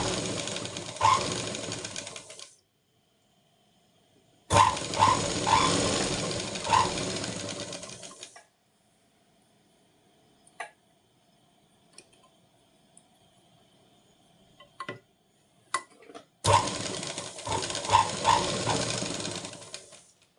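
A sewing machine stitching a sleeve runs in three separate bursts of steady whirring and needle chatter, with long quiet pauses broken by small clicks and handling noises between them.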